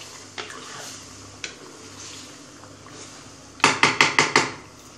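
A spoon stirring tomato paste into masala in a metal pot, a few soft scrapes followed by a quick run of five or six sharp clinks against the rim, close and clear.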